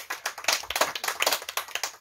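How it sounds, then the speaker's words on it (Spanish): Quick, steady clapping from an audience applauding a contestant at a games event, moderately soft and continuous for a couple of seconds with no talk. "Aplauso para el número 1."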